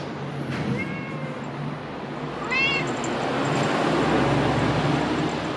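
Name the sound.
cat meowing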